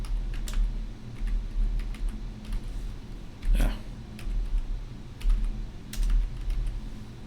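Typing on a computer keyboard during a financial-year software walkthrough: close, uneven bursts of keystroke clicks with short pauses between them, over a low steady hum.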